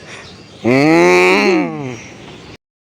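A single loud, close cow moo at a busy livestock market, a long harmonic bellow of about two seconds rising and then trailing off, with crowd murmur faint in the background.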